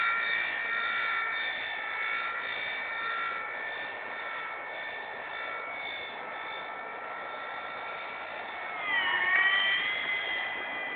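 A small remote-controlled aircraft engine whines at high pitch, holding steady, then bogs down and sags in pitch near the end before recovering, moderately near with no talk.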